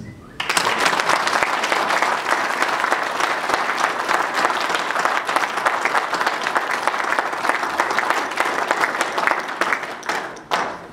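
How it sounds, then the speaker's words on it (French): A crowd gives a standing ovation at a UDPS political rally in Brussels marking the party's 33rd anniversary: dense, loud, sustained clapping that fills roughly ten seconds before tapering off. "je vous demande une très grande ovation"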